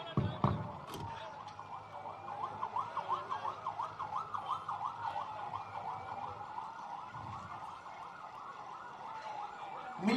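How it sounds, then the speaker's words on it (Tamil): An ambulance siren wails steadily in a rapid, repeating rise-and-fall pattern, fairly close and loud, passing through a crowded outdoor political rally in Kallakurichi with crowd noise underneath. "இன்னொரு ஆம்புலன்ஸ் வர மாதிரி இருக்குங்கண்ணா"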